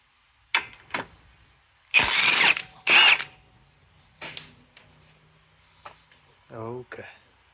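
A ratchet with a 17 millimeter socket works on a 2013 Lexus ES350 CV axle, giving short bursts of clicking and metallic rasps spaced out irregularly, with brief mechanical whirs between them.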